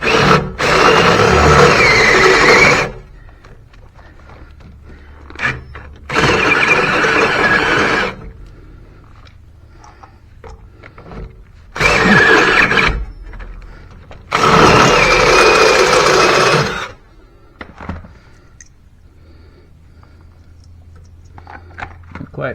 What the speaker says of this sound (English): Let's see if this step drill will get it now.